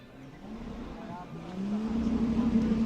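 A 3.2 litre four-wheel-drive car engine revs with a rising, climbing tone that grows louder toward the end, while a voice speaks over it at an outdoor car meet.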